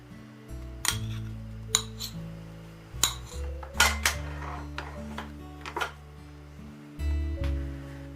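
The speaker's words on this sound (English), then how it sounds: "Now I'm just going to beat that until it's lovely and airy." Softened butter and caster sugar beaten in a bowl, heard as a series of sharp clinks and taps of utensil against the bowl at irregular intervals over a faint low hum, close with no talk.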